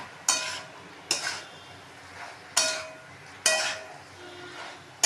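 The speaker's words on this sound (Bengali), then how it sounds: "দিয়ে ভালো করে কষে নিলাম।" Jackfruit pieces sautéed in a pan with spices for a Bengali curry: sharp scraping strokes of a spatula come about once a second over a low sizzle, close by and without speech.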